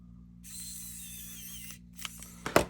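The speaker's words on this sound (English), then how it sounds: "Now you can put one screw in the front of each of these." Small screws are driven into a Superlight switch PCB, giving a steady ratcheting, mechanical whir for over a second, followed by a few close, sharper clicks and taps toward the end.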